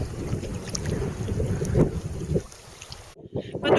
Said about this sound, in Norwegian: Det blåser selvfølgelig.